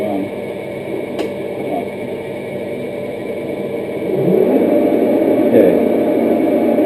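Metal lathe running at 400 RPM while taking a cut, a steady mechanical whir and hum that swells louder partway through, with a brief word spoken over it.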